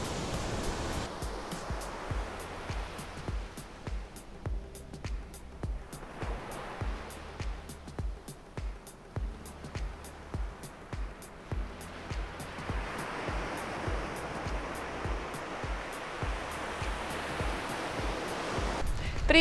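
Sea waves wash onto the beach at Laguna, Phuket in a steady, fairly loud surf with rhythmic breaking swells and constant hiss, no voices present.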